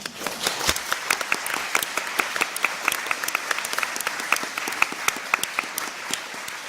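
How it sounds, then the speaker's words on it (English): A room full of people breaks into sustained applause after a speech about the Time's Up movement for change, many hands clapping at once in a dense, even patter that holds steady throughout. "I'm just going to clap for your retort there"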